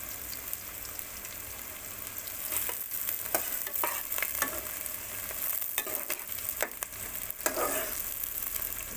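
Onions fry in about 100 grams of oil in a pan, turning light brown, with a steady close sizzle and repeated scraping stirs and spoon clinks throughout, no talking.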